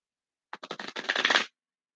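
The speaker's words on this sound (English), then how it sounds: "And after I shuffle these 4 times," A quick riffle of tarot cards being shuffled, close and crisp, in a burst of rapid papery flutters lasting about a second.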